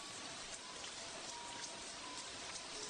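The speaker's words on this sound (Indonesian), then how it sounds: "Sekarang benar-benar hujan." Steady rain falling at a royal palace in old times, a dense continuous hiss with scattered drops, even and moderately loud throughout, with no voices.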